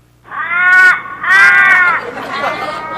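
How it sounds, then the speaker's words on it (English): Ravens caw loudly and close by in two long, harsh, drawn-out calls, followed by a rougher, fainter croak, with no other sound. "many ravens remain"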